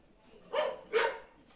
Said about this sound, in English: Every dog barks, so they both bark.